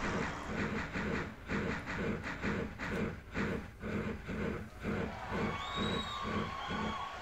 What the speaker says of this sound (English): Preferably before the train gets here,